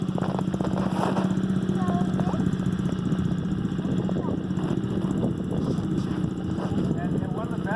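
Dirt bike engine held at a steady idle with light throttle, a constant low engine drone running continuously beneath talk and bird calls, with no sharp revving peaks.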